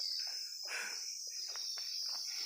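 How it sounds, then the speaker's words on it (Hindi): Locusts in a crop field give a steady, high, shrill chirring drone. Fainter scattered bird-like chirps come and go over it, and no one speaks. "ये जो टिड्डे हैं ना, इन्होंने चीख के कान खा दिए"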